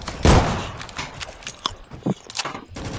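Video game gunfire from Rolling Thunder, shooting out small windows: a loud opening burst followed by scattered sharp shots and clattering impacts in a short, busy sequence.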